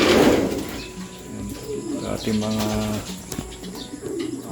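Pigeons coo softly nearby with low, rounded calls while a person talks briefly over them.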